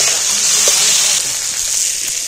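A pan of jackfruit curry ingredients sizzles loudly and evenly, with faint scraping as the mixture is stirred.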